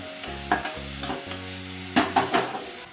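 Vegetables seasoned with salt and turmeric fry in a pan, with repeated scraping stirs of a spatula over a steady sizzle, loud and close, in a few distinct strokes.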